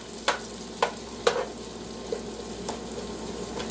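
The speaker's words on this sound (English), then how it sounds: "just let this hang out at kind of a low heat and sweat the onions and celery" Onions and celery sweat in a pan over low heat, a faint steady sizzle under a few sharp spoon scrapes and clinks from stirring, spaced irregularly across the moment.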